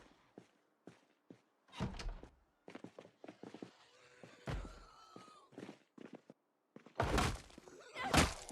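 Heavy banging on a locked door in a video game, a series of loud thumps at irregular intervals, with quieter knocks and rustling between them.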